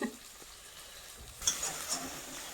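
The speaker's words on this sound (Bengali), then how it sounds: "মশলাগুলো সব ভাজা হয়ে গেছে, এবার আলুটা দেবো।" Spices sizzling and frying in a pan at home, a soft continuous crackle that jumps to a brighter, louder sizzle partway through as the food is stirred.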